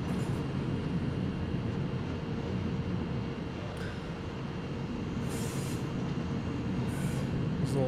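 A Class 103 (BR 103) electric locomotive shunts in Train Simulator, giving a steady, loud rolling rumble of wheels and running gear with no break for the whole stretch.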